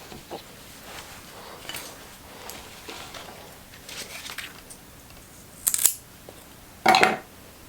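Scissors or shears cut a mangled leaf off a Monstera deliciosa plant, with faint rustling and small snips leading to two sharp, close crunching cuts near the end.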